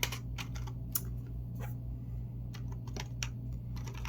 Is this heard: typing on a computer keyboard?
yes